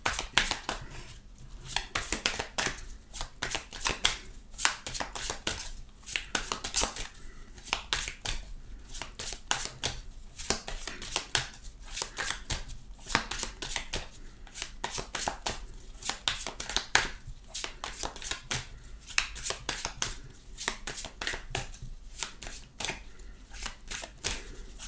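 Arcanum Tarot cards being shuffled over and over in quick papery riffles and taps, a continuous rhythmic fluttering close by, with no voices.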